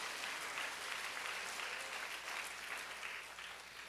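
A congregation at a Korean prayer-house gathering claps together in praise, an even, continuous roar of many hands that stays strong and slightly fades near the end.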